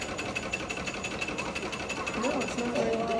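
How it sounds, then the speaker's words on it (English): A small Acme safety engine runs at a mining and industry museum, a fast, steady mechanical chatter with rapid regular beats, close and moderately loud, while people talk over it. "So this is our little safety engine."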